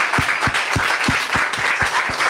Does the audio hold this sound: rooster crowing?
no